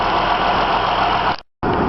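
A 2007 Honda Odyssey engine runs at a steady idle after a repair, a close, even drone that cuts out abruptly for a moment before resuming at the same level.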